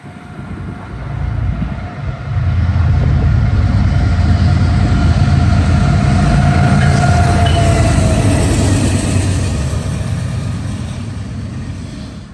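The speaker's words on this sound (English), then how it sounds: "first being this Norfolk Southern Intermodal with a GEVO leading and -9 trailing" A Norfolk Southern intermodal freight train rolls past with a GE Evolution Series (GEVO) locomotive leading and a Dash-9 trailing, a loud, deep rumble of engine and wheels that swells in and holds steady as the cars roll by up close.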